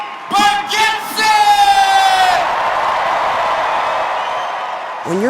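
A live comedy audience for Nate Bargatze erupts into loud cheering, whoops and applause, a dense sustained roar of a large crowd with yells rising over it.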